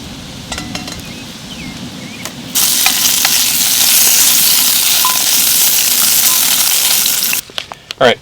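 Sausages frying in a pan, cooked outdoors in a shady spot, give a loud, steady crackling sizzle from about 2.5 to 7.4 seconds, framed by quieter clinks and pan handling at the start and finish.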